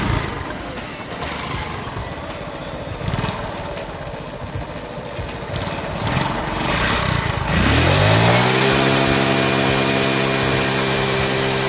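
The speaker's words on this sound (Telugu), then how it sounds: "ఇంజన్ సౌండ్ అయితే బరాబర్గా మంచిగానే వస్తుంది" A small TVS XL moped engine with a spark plug problem coughs and catches partway through, then runs at a steady, loud idle close by, after a stretch of rough mechanical rattling.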